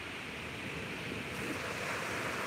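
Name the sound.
ocean waves on a beach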